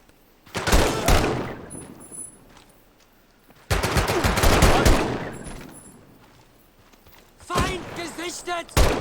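Rapid automatic gunfire in the World War II VR shooter Medal of Honor VR, three loud bursts of machine gun fire separated by fading echoes and quieter gaps.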